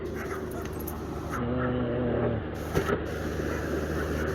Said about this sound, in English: My neighborhood dogs are loving me.